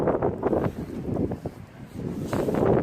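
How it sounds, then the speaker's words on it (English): Gusty wind buffets the microphone beside Hollingworth Lake, a reservoir, coming in rough low rumbling bursts that rise and fall over a few seconds, loud and close with no voices. "Hope you can hear me, it's very windy."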